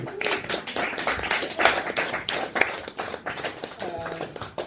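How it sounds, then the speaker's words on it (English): A comedy club audience claps and cheers for a comedian walking on, uneven bursts of clapping mixed with whoops and crowd noise, fairly close. "can I have a massive round of applause for Sal Monello?"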